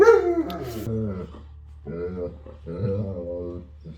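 A dog whimpers and whines at close range in a few drawn-out, high-pitched cries broken by short pauses, audible over a low steady hum of a vehicle interior.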